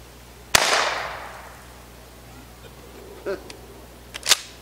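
A homemade shotgun shell loaded with Nerds candy fires at a pumpkin outdoors, one sharp, loud blast with a short fading tail, followed by a few small clicks and thumps.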